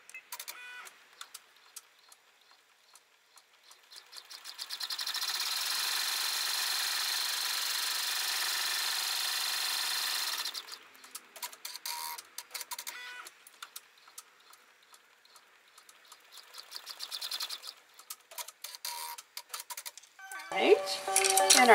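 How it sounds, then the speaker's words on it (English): An embroidery machine stitches out an in-the-hoop step on a vinyl envelope card holder, a steady mechanical whirr that starts after a few seconds, runs for several seconds, then gives way to quieter clicks and handling. "And we're going to sew out one more step."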